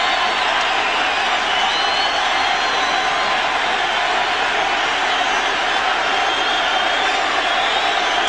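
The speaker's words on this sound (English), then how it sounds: "You can hear the crowd in the background." Steady stadium crowd murmur at a Yankees versus Orioles baseball game, a continuous broad wash of distant voices with no distinct cheers, running under the broadcast.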